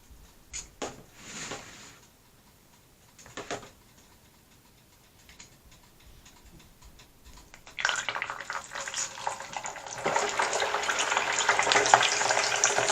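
Spicy stew with cornstarch sizzles in a pan, starting quiet with a few scrapes and growing into a loud, steady crackling sizzle toward the end.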